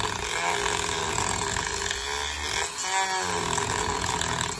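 A Dremel rotary tool with a cutoff wheel grinds and whines continuously up close, its pitch wavering briefly as the wheel bites into wood, cutting a door for a lock.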